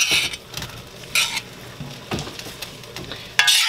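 Green beans and broccoli sauteing in sesame oil for noodles, a bright sizzle broken by several loud stirring scrapes and clatters of a utensil against the pan, close and without talk.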